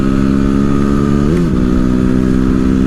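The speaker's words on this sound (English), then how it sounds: "Right now, doing 60, and I'm maxing out even at 80 miles an hour with this bike." A lightweight streetfighter motorcycle, about 295 pounds, cruising on a highway at around 60 mph, with a steady, loud engine drone and a brief pitch dip midway, no talk over it.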